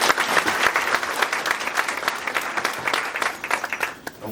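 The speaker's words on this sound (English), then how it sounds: "Please give him a applause." A packed township meeting crowd applauds the new Highway Commissioner, a thick, loud wash of many hands clapping at once that runs steadily for about four seconds, with no talking.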